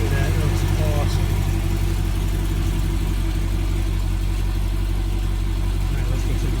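A Chevrolet Corvette engine idles steadily with a low, even rumble that holds level throughout, a slight rev near the start, with a voice talking over it.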